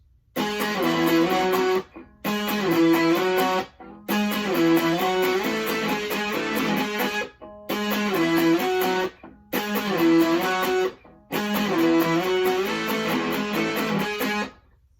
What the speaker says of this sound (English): starting off with the intro for the lead guitar